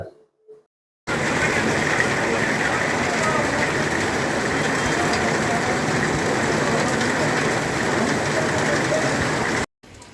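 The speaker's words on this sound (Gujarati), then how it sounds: "ભાવનગર જિલ્લાના તાલુકા મથકો પર સતત વરસાદી માહોલ સર્જાયો છે" Light steady rain falling in Bhavnagar district, a continuous even hiss of drops on surfaces, loud and unbroken for about nine seconds before cutting off abruptly.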